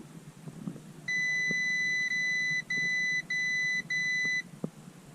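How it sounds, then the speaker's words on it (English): Four steady electronic beeps in quick succession, each a sustained high tone with short gaps, sounding alone over a low background hum: a car dashboard warning while the engine computer is being flashed with an E85 tune. "your dash is probably going to light up and start beeping at you"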